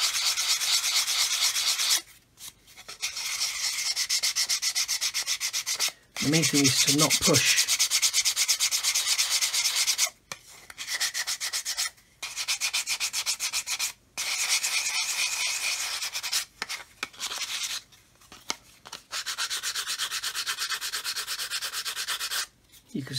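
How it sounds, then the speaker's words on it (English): A sanding stick rubs back and forth on a hard edge in close, rhythmic strokes with short pauses between bursts, and someone speaks briefly. "start off just by sanding that inner edge away"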